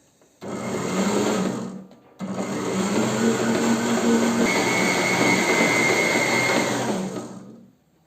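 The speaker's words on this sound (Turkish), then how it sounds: "gluten penceresi oluşana kadar makinede yoğuruyoruz" A stand mixer kneads bread dough flavored with turmeric and nigella seeds, a steady motor whir running for several seconds with a short pause, then resuming loud and continuous before stopping.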